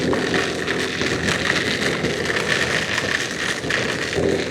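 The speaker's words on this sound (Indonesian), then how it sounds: "Tiba-tiba hujan dong." Steady, loud rain pours down during a motorcycle tour on a Honda Vario 125 toward Dieng in the mountains, a dense continuous hiss with some rattling, heard alone without talk.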